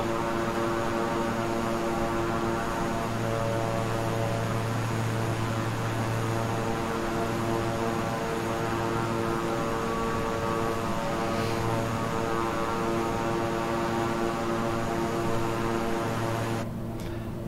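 The twin propeller engines of a King Air 350i in Microsoft Flight Simulator give off a steady, loud droning hum with a tonal whine. The sound holds even throughout and nobody speaks.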